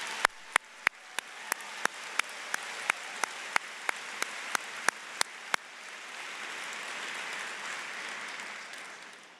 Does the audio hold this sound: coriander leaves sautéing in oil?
no